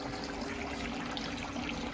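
Saved pure water poured into a bucket, a steady continuous trickle and splash heard close up throughout with no pauses, as part of processing maple sap during a first season using reverse osmosis.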